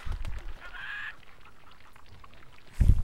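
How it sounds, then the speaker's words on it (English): A chicken in The Sims 2 Castaway clucks and honks loudly in short bursts, one squawk near the start and another at the end, with quieter background between. "What is wrong with this chicken? Can you be quiet?"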